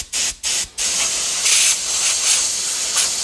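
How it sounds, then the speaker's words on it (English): Compressed air from an air gun blowing through a primer hole: three short hissing bursts, then a sustained steady hiss with slight swells, close and loud with no talk. "So we'll spray that, and we'll see what comes out of this one."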